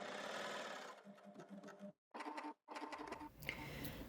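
A coverstitch sewing machine chains a line of stitching through fabric, running in steady rapid bursts with two brief full stops before it starts up again, close and loud.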